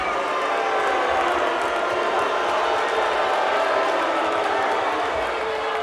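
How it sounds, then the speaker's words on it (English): A stadium crowd at a 2019 LFL Western Conference Championship football game, Austin Acoustic versus LA, reacts against a penalty call with a loud, sustained, dense roar that fills the space, with commentary voices blended in. "Crowd doesn't like that one at all."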